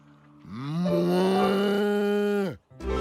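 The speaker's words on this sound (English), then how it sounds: "Or a cow." A cow moos in one long, loud, drawn-out call close by, followed by a short break and the start of another sound.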